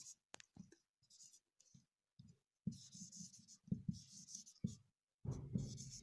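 Chalk or marker scratches numbers onto a board in short bursts of strokes, with pauses between figures and a quiet voice faintly audible at moments.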